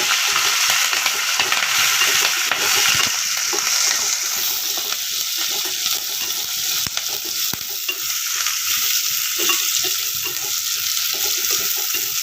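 Ginger, garlic, onion, green chillies and curry leaves sautéing in a little oil for tomato rice bath: a loud, continuous close-up sizzle with occasional scraping stirs and clicks, no voices.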